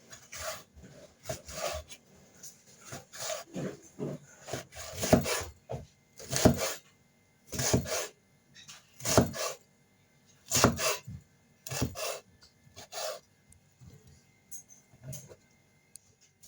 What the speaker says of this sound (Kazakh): Қызыл капустамызды тураймыз енді.